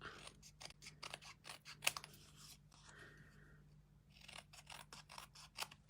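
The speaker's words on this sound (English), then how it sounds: "then you take your scissors" Scissors snip through paper, a rapid series of crisp close cuts in uneven bursts with a brief pause in the middle, quiet and alone for a stamped card project.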